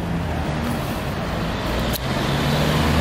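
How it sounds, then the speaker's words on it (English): Dense roadway traffic with many cars moving steadily along a busy street, a continuous loud rumble of engines and tyres with a low hum throughout and no break in the flow. "Traffic's crazy."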